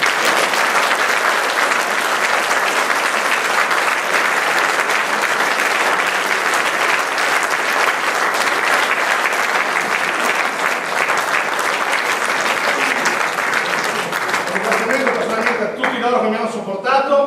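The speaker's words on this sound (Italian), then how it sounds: "e ancora un applauso" Sustained loud applause from a theatre audience at the end of an amateur dialect drama company's performance, dense steady clapping throughout, tapering near the end as a voice begins to speak.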